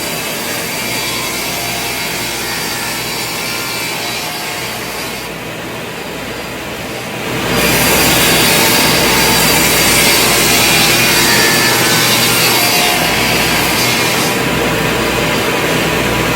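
A table saw cuts down boards on a crosscut sled, a loud, steady whine that runs continuously, dips briefly, then rises into a louder sustained cut.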